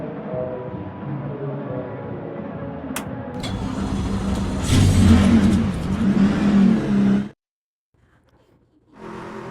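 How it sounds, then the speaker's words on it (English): NASCAR truck engines in the NASCAR 25 video game fire up and rev loudly, climbing into a dense roar of several motors that cuts off abruptly to near silence before a low rumble returns. "Drivers, start your engine!"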